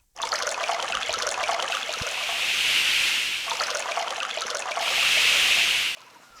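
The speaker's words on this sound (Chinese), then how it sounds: "也会用河水浇熄剩下的萤火。" River water is poured onto leftover embers in a forest, splashing and trickling steadily, with two stronger gushing surges before it stops abruptly.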